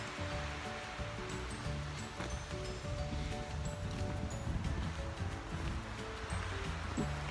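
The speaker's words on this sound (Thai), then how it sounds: "ลมเริ่มมาอีกแล้วเพื่อน ๆ เอ้ย" Wind rushes through a pine forest on a mountain walk in a continuous, surf-like roar of moving branches and needles, steady and fairly loud, with no voices.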